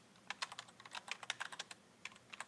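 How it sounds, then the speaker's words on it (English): Rapid typing on a computer keyboard, a quick run of crisp, close keystrokes in uneven bursts with a short pause before a final few taps, heard alone and fairly quiet. "typing fast here"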